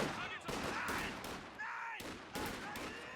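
A .50 cal machine gun firing in the real-time strategy game Company of Heroes 2 during a 4v4 match, several rattling bursts of rapid fire, fairly faint, with battlefield sounds.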